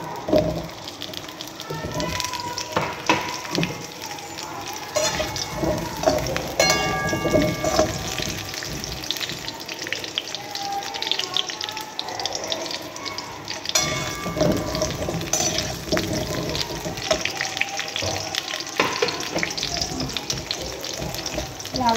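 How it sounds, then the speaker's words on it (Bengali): Potatoes frying in hot oil in a pan, a steady crackling sizzle with bursts of sputtering pops and occasional clinks of stirring, continuing loud and close throughout. "লাল লাল করে ভেজে নেব আলুটা ভাজা হোক"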